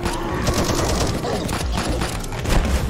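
Rapid bursts of gunfire in the co-op video game 10 Miles to Safety, dense and continuous over a few seconds with loud, clattering shots and no clear pauses.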